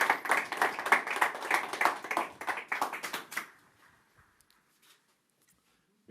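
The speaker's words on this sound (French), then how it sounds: "Vous pouvez même applaudir, ça se fait même à distance" Scattered hands clapping at an inauguration ceremony, a brief burst of applause for about three and a half seconds that quickly dies away into near silence.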